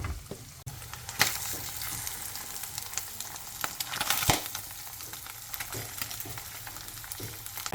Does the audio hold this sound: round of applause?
no